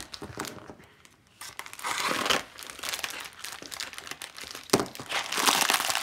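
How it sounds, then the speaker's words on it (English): A package or bag is torn open and crumpled close by, with irregular crinkling and ripping bursts of paper or plastic running for several seconds. "Tear it open."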